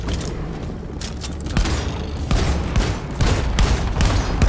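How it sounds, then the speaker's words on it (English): Rapid shotgun blasts and chaotic combat in the video game Deep Rock Galactic, a dense run of loud booming shots layered over a constant roar of game noise, with no talk. "Shotgun's not doing too bad either."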